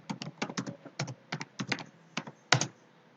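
Password typed on a computer keyboard at a terminal, a close run of about fifteen crisp key clicks in uneven bursts, ending with one sharper keystroke near the end, heard alone in a quiet room.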